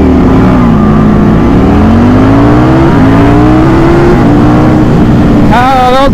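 Motorcycles launch in a drag race, their engines roaring loud and close as the pitch climbs steadily through the gears, with wind noise throughout and a voice cutting in at the end.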